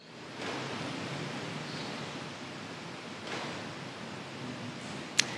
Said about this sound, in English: And the drips of water falling into the buckets in the church.